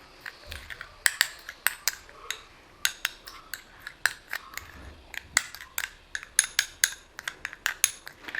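A spoon mixes a face scrub of aloe vera gel and rose water in a bowl, giving a run of irregular bright clinks and taps, some crisp and close, repeating throughout.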